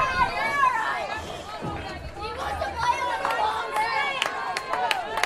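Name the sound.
baseball crowd standing and clapping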